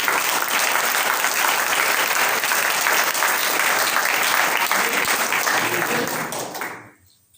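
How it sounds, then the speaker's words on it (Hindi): Loud, sustained applause from a congregation at a Friday prayer meeting, a dense wall of clapping that holds steady, then fades out near the end. "जोरदार तालियां"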